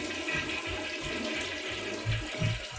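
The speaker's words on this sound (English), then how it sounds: "You want to hear that toilet flush again?" A toilet flushes with a sustained rushing gurgle of water and no talking over it. Low surges pulse roughly every half second and swell louder toward the end.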